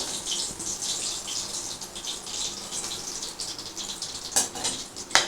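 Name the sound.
frying chicken pakora in oil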